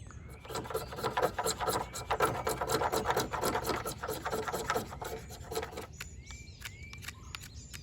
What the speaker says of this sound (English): scrape fatwood off of the front of these